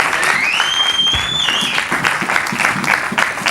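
A church congregation applauding and cheering at an evangelical service, loud sustained clapping with a whistle-like tone rising over it at first, with voices mixed into the crowd noise.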